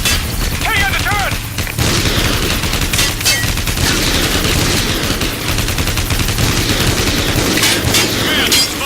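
Sustained turret gunfire rips through a Call of Duty: Ghosts battle, loud and continuous, with bursts and booms layered over shouted voices.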